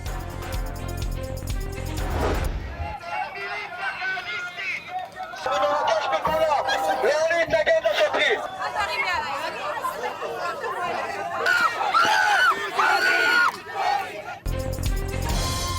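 Thousands of protesters fill night streets in Iranian cities such as Natanz and Shiraz, chanting anti-US and anti-Israel slogans; a loud, dense roar of massed voices rises and swells through most of the stretch, with other sound at start and end.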